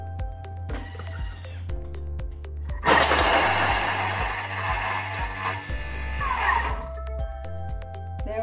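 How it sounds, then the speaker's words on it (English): A food processor chops garlic for paste at speed 8, starting abruptly into a loud, steady whirring burst of about four seconds before cutting off, with quieter steady tones in the background. "we are going to chop the garlic at speed 8 during 3 seconds"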